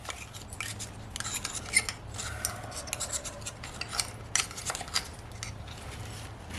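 Oyster shell being pried and scraped apart from its underside during charbroiled oyster prep, a series of close, irregular scraping and rasping clicks with a low background hum and no talking.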